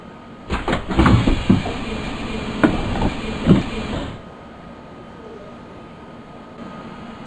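Doors of an ICE T train opening at a station platform in Train Simulator 2017, a series of clunks, hisses and rattles over a few seconds, then a quieter steady cab hum.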